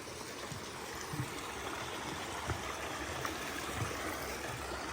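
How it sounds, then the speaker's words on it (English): The Winhall River in Vermont flows along the Appalachian Trail near Bromley Mountain, a steady broadband rush of running water with soft gurgles, close and continuous, with no voices. "This is called the Winhall River."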